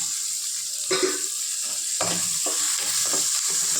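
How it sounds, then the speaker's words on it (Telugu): Tomatoes frying in a pan for a colocasia tamarind stew are stirred, with a constant loud sizzle broken by a few louder scrapes of the spoon across the pan. "అడుగంటకుండా ఇలా కలయి పెడుతూ ఉండాలి."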